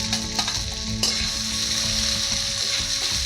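Chicken (one kilo) and four onions fry in a hot pan with a loud, continuous sizzle, broken by a few clattering stirs near the start. No voices are heard.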